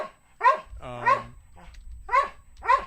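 Five loud, close dog barks from the soundtrack of the 1933 film The Invisible Man, spaced irregularly. Between them comes a low rumbling, tonal growl-like sound, with no talking.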